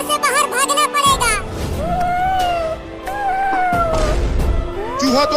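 A cartoon cat meows repeatedly in rising and falling wails, loud and close, mixed with busy animated voices and background noise.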